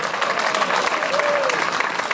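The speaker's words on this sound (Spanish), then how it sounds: "Forte aplauso para o vencedor desta agrupación nesta segunda edición da subida a Tabadela" At a prize-giving for a hill-climb race, an audience applauds the category winner with brisk, dense clapping that fills the whole moment, with a faint voice briefly underneath.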